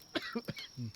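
Several short, sharp coughs in quick succession, close and clear, with a brief rough throat-clearing burst at the end.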